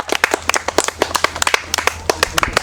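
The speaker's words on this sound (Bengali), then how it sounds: "হাততালি দিও সবাই হাততালি" Scattered hand claps from a group of children at a fun yogurt-eating game, coming quickly and a little unevenly, crisp and near, with a low background hum.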